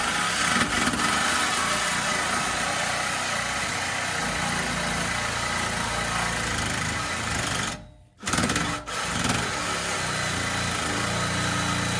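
A Dodge Magnum 4.7L truck engine runs with its stock muffler, giving a steady, close, droning idle with a brief drop and recovery partway through, with no voices present.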